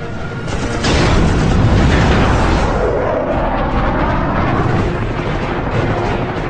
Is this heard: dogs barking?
no